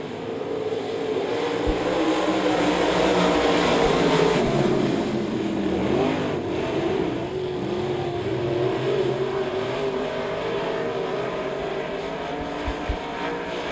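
Several stock race cars roar around a short oval speedway at Devil's Bowl, a continuous loud engine drone with rising and falling revs as cars pass, alone without talk.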